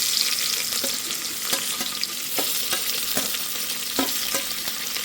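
Chopped onions fry with whole spices in oil for a bamboo shoot pulao, giving a constant hissing sizzle with regular spoon scrapes and taps against the pan, close and clear.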